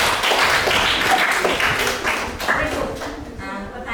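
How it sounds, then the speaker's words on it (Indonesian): Classroom students clapping together, a dense burst of applause that fades slightly toward the end, with some voices mixed in. "Oke, tepuk tangan."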